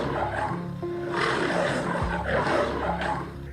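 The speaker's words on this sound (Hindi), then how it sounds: "तभी उसे शेर की आवाज सुनाई दी" A lion roars in a jungle scene from an animated Hindi moral story, a loud, sustained, rumbling growl that swells and fades over a few seconds with no talking.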